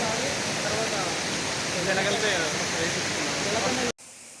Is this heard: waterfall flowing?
yes